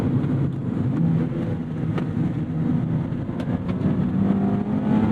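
A Mazda Miata ND3 on Tecna coilovers drives over a bumpy road, a steady low engine and road drone heard from inside the cabin with occasional thumps and rattles from the suspension.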